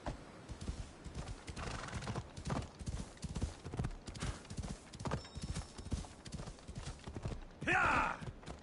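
A horse gallops in Assassin's Creed Odyssey with rapid rhythmic hoofbeats throughout and a loud neigh near the end, close and prominent, with no talking over it.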